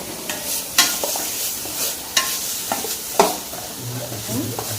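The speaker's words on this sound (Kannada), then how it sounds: "ಇದು ಹಸಿ ವಾಸನೆ ಹೋಗೋ ತನಕ ನಾವು ಫ್ರೈ ಮಾಡಬೇಕು" Chickpeas, ivy gourd and grated coconut fry in a pan with a bright sizzle, while a spoon clacks and scrapes against the metal several times in an uneven rhythm, close up and without speech.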